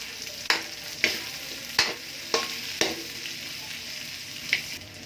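Cabbage and a stock cube are stir-fried for pancit canton, a close bright sizzle broken by a series of sharp spatula scrapes against the pan at an uneven rhythm.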